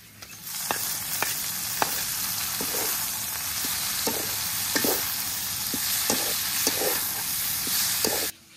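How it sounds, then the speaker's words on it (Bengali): Water spinach hitting hot oil with fried onion, green chili and garlic, giving a loud continuous sizzle and hiss, broken by regular spatula taps and scrapes against the pan. Heard up close, with no one talking. "পেঁয়াজ কাঁচামরিচ রসুন খুব ভালোভাবে ভেজে নিয়েছে, এখন দিয়ে দিব শাক"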